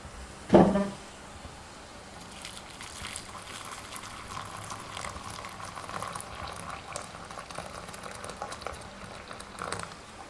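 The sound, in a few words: electric kettle boiling water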